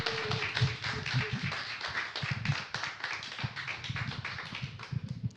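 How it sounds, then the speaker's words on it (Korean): Applause from a church congregation welcoming a preacher to the front during a Sunday worship service in a new sanctuary, a steady wash of many hands clapping with no voices over it. "우리 유용섭 전도사님을 저희가 큰 박수로 맞이하도록 하겠습니다"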